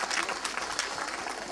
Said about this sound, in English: give them a huge round of applause for their courage